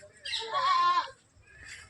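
At a livestock market at Mandi Sedha Singh Wala, a goat lets out one long, wavering bleat close by, then the area falls to faint background noise with a weaker bleat-like sound at the end.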